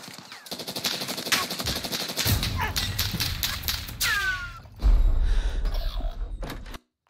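Rapid automatic gunfire in the video game Warzone, with dense close bursts of shots, some whizzing sweeps and a heavy impact near the end before it cuts to silence, with no talk.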